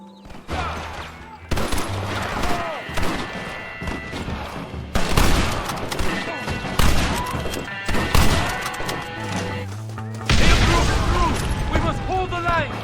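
Gunfire and crashing impacts in the Western video game Red Dead Redemption, loud bursts of shots and heavy thuds repeating across the scene under a dense mix of music and voices.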